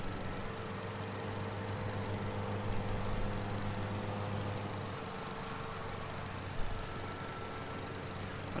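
John Deere riding tractor mower engine running steadily with a constant low, droning hum and a faint mechanical whine, close and unbroken apart from a brief bump near the end, no voices.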